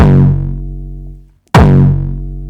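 A hardstyle kick drum with boosted bass and mids strikes twice, each hit a loud distorted punch with a pitched tail that rings and decays, separated by a short gap of silence.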